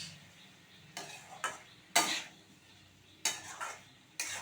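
Jackfruit and potato tossed with spices in a pan for a Bengali jackfruit kalia, heard as irregular scraping stirs and clinks of a spatula against the pot, with several sharp strokes over a faint sizzle.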